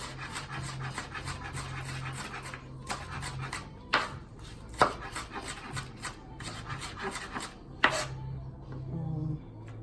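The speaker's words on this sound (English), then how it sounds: "I'm cutting up onions." A knife chops onions finely on a board for a three-meat seafood dressing, with irregular quiet chops and a few sharper knocks over a low background hum.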